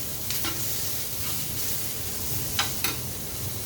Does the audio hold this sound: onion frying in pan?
yes